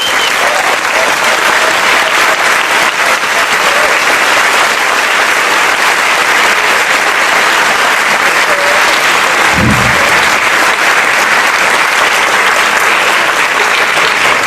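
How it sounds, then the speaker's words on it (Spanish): A large lecture audience breaks into loud, sustained applause that fills the hall steadily for the whole stretch, with one brief low thump partway through and no speech over it. "les pido un gran aplauso"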